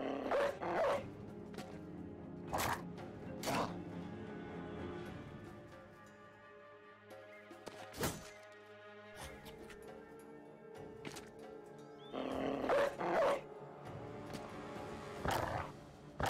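Dogs bark in the fantasy strategy game Battle Brothers: scattered sharp barks in short bursts over a quiet battle backdrop, with some clip-clopping hooves mixed in.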